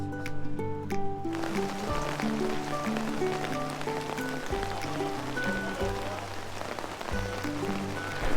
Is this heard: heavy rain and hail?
yes